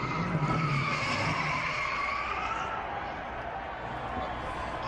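NASCAR stock car spinning out at Dover with a long, loud tire squeal and skid under a roaring engine, crowd noise behind and commentators talking over it.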